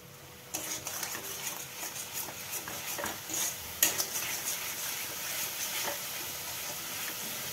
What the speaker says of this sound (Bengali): এবার এটাকে ভালো করে কষিয়ে নিতে হবে